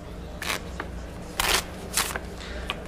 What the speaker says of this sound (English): Ivory Mask, Impulse, and Impulse are being shuffled back into Maher's deck right now.